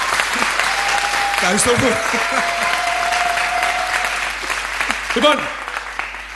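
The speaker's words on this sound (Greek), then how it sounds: "Ένα χειροκρότημα πάρει τα πάνω." Studio audience at a comedy talent show clapping steadily at moderate loudness, while someone speaks over the applause.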